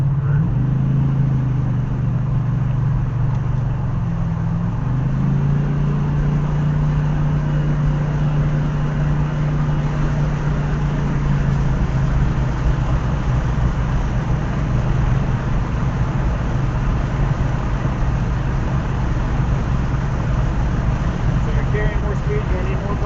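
A 1996 Chevrolet Impala SS drones steadily around the Nelson's Ledges road course. Its engine tone dips briefly early on and then holds a constant in-cabin roar beneath continuous conversation.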